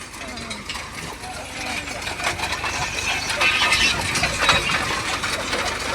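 A stone-picking machine with a pulley runs steadily outdoors, a continuous mechanical churn of rattling gears and engine drone close by, growing slightly louder and busier as it goes.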